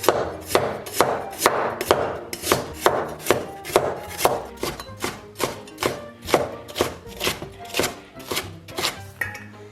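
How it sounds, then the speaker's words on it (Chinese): A kitchen knife cuts scallions into slanted slices and shreds ginger on a cutting board, giving a steady series of sharp, close knocks about every half second, with no talking over them. "然后咱们把葱给它切成斜刀片儿， 然后姜给它切成细丝儿"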